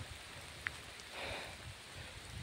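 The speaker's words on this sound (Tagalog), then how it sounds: "sobrang ulan na tol." Heavy rain falls as a steady, even hiss with scattered drops pattering on surfaces, moderately loud and continuous, and no one talking.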